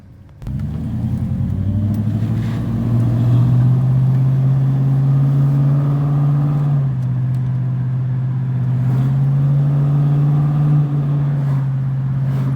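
Truck engine pulling steadily in second gear, a loud close rumble that holds a constant low drone for about twelve seconds with slight pitch shifts as it drives.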